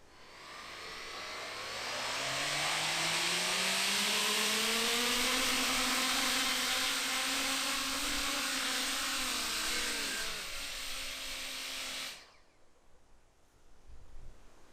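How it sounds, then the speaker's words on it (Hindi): Impeller motors on a Coanda effect drone spin up at full throttle during its first test, a loud rising whine that climbs steadily in pitch, holds, then cuts off abruptly, leaving a quiet background. "ठीक है, क्वांडा इफेक्ट ड्रोन का पहला टेस्ट शुरू करें"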